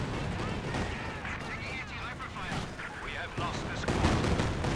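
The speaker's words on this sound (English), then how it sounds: "big Katyusha barrage" A Katyusha rocket artillery barrage rumbles in a World War II strategy game, a dense, continuous roar of overlapping blasts and crackling fire that swells louder toward the end.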